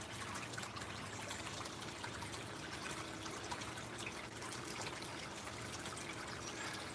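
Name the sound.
water running through a Flower Gold Wizard smooth water header box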